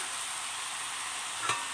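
Rohu fish frying in a pan, a steady, fairly quiet hiss of oil sizzling throughout with a brief stir or scrape near the end; no voices.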